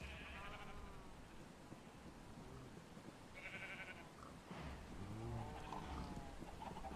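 Sheep in modded Minecraft bleat several times in wavering, overlapping calls over steady background hiss, with no voices.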